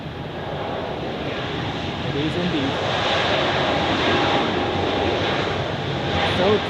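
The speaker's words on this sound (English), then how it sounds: "another aircraft has received takeoff clearance on 28, so I think this is the Helvetic Embraer which we saw before" A Helvetic Airways Embraer jet takes off from runway 28 at Zurich Airport, its engines a broad, steady roar that swells slightly and holds throughout, heard from a distance outdoors.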